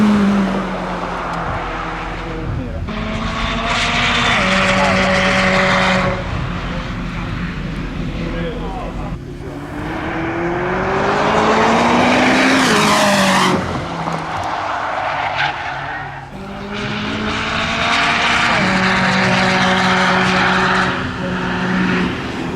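Supercars including a McLaren 600LT and a Nissan GT-R race around Anglesey Circuit, engines roaring loud and close in repeated surging passes with rising and falling pitch, tyre squeal, and voices talking over the noise.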